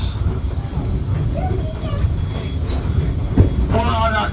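A tourist train rolls along the track with a loud, continuous rumble and rattle, while a voice talks faintly over it.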